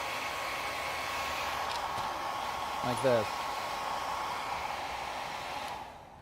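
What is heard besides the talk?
small portable hair dryer drying paint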